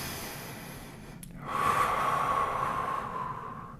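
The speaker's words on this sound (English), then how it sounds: "Big breath in." A deep inhale during a handstand hold starts after a brief pause, a steady, close, airy breath lasting about two seconds with a faint whistling tone.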